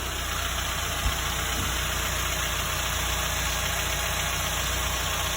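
A 2020 Mitsubishi Outlander's engine idles steadily just after an oil change, a constant low hum with a faint whine above it, close by and unbroken apart from one small tick.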